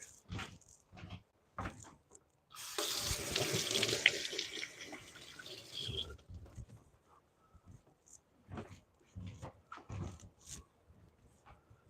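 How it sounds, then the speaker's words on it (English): Tap water runs steadily for a few seconds as hands are rinsed at a sink in a pizza kitchen, set between clattering handling noises and small movements. "I'll rinse my hands off real quick."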